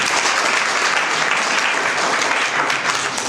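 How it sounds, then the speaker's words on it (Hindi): Dense, steady clapping from a church congregation at a Saturday meeting, filling the whole stretch at an even level with no pauses. "ताली बजाओ।"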